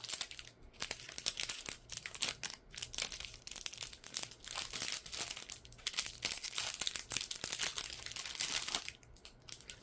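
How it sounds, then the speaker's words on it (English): Plastic packaging crinkles and crackles steadily while diamond painting drills for a sailing-scene kit are unboxed, a close, continuous rustle with small bursts and no talking. "here's going to be some crinkling, because I'm going to show you the drills."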